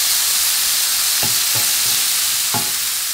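Prawns fry in a hot pan with a steady, bright sizzle and hiss, broken by a few soft scraping stirs or nudges, heard close with no voices.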